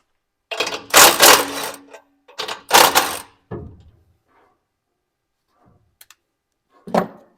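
Quick ratcheting bursts from a wrench loosening the rear tailpipe clamp on an OBS Ford 5-inch Diamond Eye exhaust, two long runs of clicking followed by shorter, fainter clicks and a final brief burst, close and loud with no talk.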